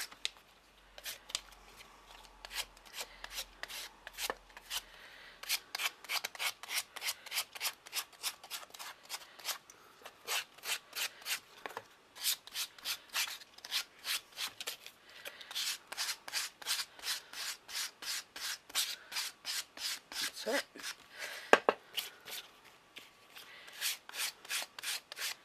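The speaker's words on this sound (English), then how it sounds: "So just sandpaper all of that off." Sandpaper rubs steadily over a small wooden heart in quick, rhythmic back-and-forth strokes, close and fairly quiet, continuing for a long stretch with brief pauses.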